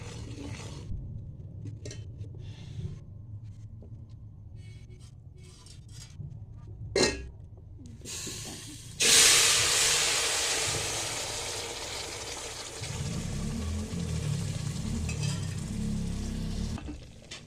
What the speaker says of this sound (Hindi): अब मैं इसमें दूध में जो चीनी मिला के रखी थी वो डालूँगी।